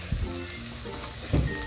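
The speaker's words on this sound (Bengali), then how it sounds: "এখন কাঁচা লঙ্কা কুচিটাকে একটু নাড়াচাড়া করে নেব।" Chopped green chili frying with ginger and garlic in hot oil, a steady close sizzle with a couple of louder stirring scrapes near the start and end.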